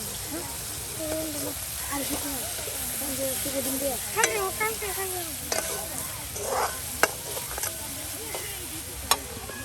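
Dried fish stirred and fried in spiced masala over an outdoor fire, a soft steady sizzle with occasional scrapes and clinks of the spoon, heard faintly under a voice talking.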